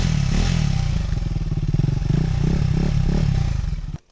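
KTM 390 Adventure single-cylinder engine close by, a loud, rapid pulsing exhaust beat that rises and holds through several revs, then cuts off abruptly at the end.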